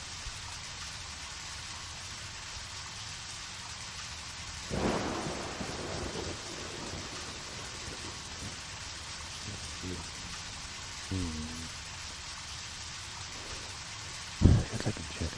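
Rain hisses steadily in the video game Deadly Premonition, broken by a few rumbling thunder crashes, the sharpest and loudest near the end.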